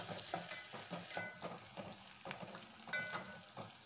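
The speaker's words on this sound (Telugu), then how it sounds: "నెక్స్ట్ ఇందులో 2 ఎండుమిర్చి కూడా యాడ్ చేసి ఒకసారి బాగా వీటిని ఫ్రై చేసుకోండి" Onions and two dried red chillies fry in oil for a brinjal tomato curry, a soft, steady sizzle broken by scraping stirs at irregular intervals, quiet and fairly close.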